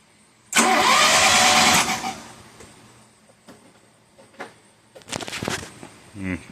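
A 1985 Dodge Charger engine cranks in a loud burst, then sputters and catches with uneven bursts of firing and rough revving, close by, with no one talking.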